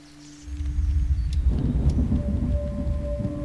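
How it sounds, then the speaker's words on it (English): Low rumbling storm sound swells in after a quiet start and rolls on steadily, with a thundery roar in the background of the AWAY sugar glider survival game, plus faint hiss like rain. "A storm rumbles in the distance."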